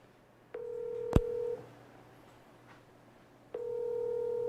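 Telephone keypad tones sound as a call is dialed, a long sustained beep followed by a short tone, then a pause and another long steady beep, clear and alone.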